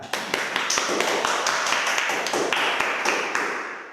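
A small classroom group claps briefly for a student, quick uneven hand claps close by, steady for a few seconds and then tapering off.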